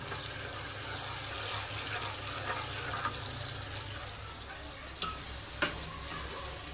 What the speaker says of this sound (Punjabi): ਦੇਸੀ ਘਿਓ ਦਾ ਤੜਕਾ ਲਗਾ ਰਹੀ ਆ